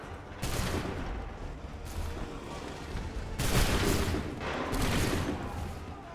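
Muskets fire in volleys on command in Assassin's Creed 3, each a dense burst of overlapping shots, four crackling bursts spaced a second or two apart over battlefield rumble.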